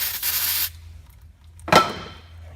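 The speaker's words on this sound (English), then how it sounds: "And then I always spray it down afterwards with a little brake clean." Two hissing aerosol bursts of brake cleaner sprayed on a Ford front differential, a longer one followed by a short sharp blast after a pause, close by in a quiet room.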